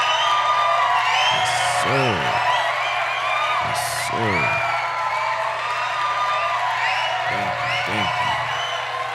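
A crowd cheers and applauds with repeated loud whoops and rising yells over a steady roar of clapping, while someone talks over the noise.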